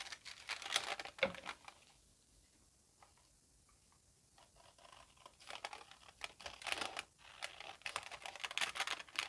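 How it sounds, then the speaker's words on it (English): Scissors trimming excess paper from a mailer envelope pocket, with crisp snipping and crinkling paper rustles in short bursts, quieter in the middle, close and fairly faint. "So now I can trim off the excess here"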